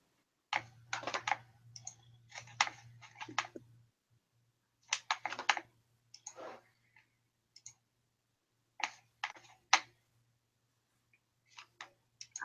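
Computer keyboard typing in irregular bursts of rapid key clicks separated by pauses, fairly close, with a steady low hum underneath and no talking.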